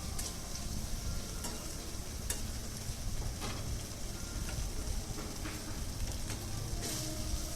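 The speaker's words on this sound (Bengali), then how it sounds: "মশলাটা কষানো হয়ে গিয়েছে" Spice paste with tomato and turmeric sautéing in a pan for a healthy fish curry with potato, eggplant and bori, giving a steady close sizzle with occasional stirring scrapes and clicks, no voices.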